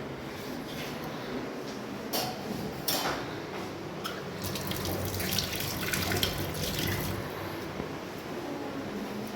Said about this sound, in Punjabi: ਇਹ ਪਾਣੀ ਪਾਇਆ ਆਪਾਂ ਨੇ ਟਿਊਟੀ ਵਾਲਾ